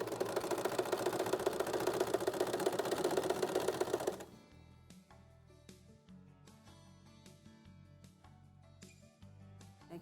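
A sewing machine runs fast and continuously while stitching a curved section of a fabric sewing-machine cover, then stops abruptly partway through, leaving quiet clicks and handling noises.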